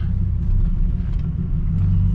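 A 1986 BMW 635CSi E24 sharknose with a stainless steel exhaust sets off, giving a steady low engine rumble heard from inside the car, close and without talk.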